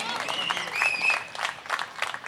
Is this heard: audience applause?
yes